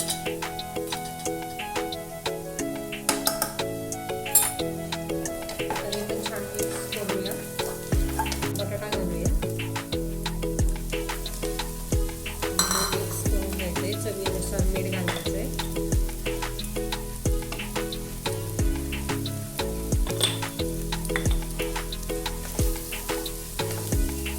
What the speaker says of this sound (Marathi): आपल्याला कांदा गोल्डन ब्राऊन होस्तवर परतायचा